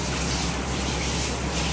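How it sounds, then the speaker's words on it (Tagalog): Water gushes steadily into a pan of salty pork steak as it cooks in a home kitchen, a continuous, fairly loud pouring rush with no talk over it. "Okay, lagyan natin ng tubig."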